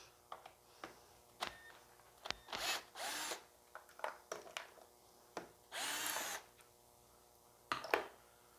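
A power tool backs out the top bracket bolts while a light kit is installed, with short whirring bursts, a few longer runs and light clicks and rattles between them, close up and with no talking.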